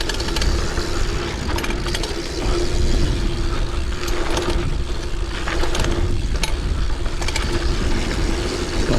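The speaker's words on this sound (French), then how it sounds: "vous allez entendre ma chaîne cogner" Loud rattling and clanking of a mountain bike chain slapping while riding a dual slalom course with only a rear brake, over rough ground, continuous with irregular sharp knocks and rushing noise.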